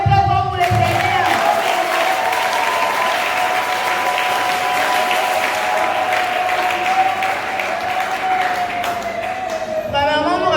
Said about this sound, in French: acclamez très fort pour le Seigneur